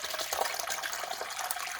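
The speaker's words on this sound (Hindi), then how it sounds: "पानी शामिल कर दिया।" Water pours steadily into whisked yogurt for lassi, a continuous close splashing and trickling with no talk.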